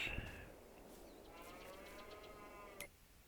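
Cows low in a Farming Simulator 22 barn on a western map, one long drawn-out moo rising and fading, faint and close, with a short click near the end.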